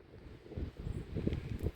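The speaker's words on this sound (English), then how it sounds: "Very cold and windy." Low, gusty, cold morning wind on the Appalachian Trail buffeting the microphone outdoors, rumbling in uneven surges, fairly quiet with no voices.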